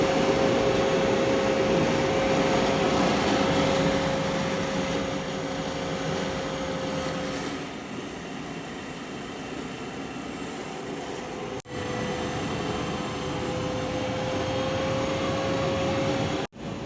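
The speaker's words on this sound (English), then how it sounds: "Again we are going to increase the load on DC motor shaft." A DC series motor runs under increasing shaft load, giving a loud steady electrical whine with a high sustained tone and a lower hum; the hum shifts slightly partway through, with a brief dropout near the end.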